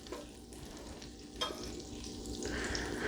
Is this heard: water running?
no